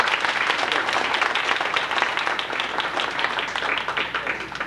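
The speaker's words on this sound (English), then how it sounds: "I would like to give this football team a round of applause" A banquet crowd gives loud, continuous applause for a high school football team at an athletic banquet, a dense wash of clapping that holds steady and close throughout.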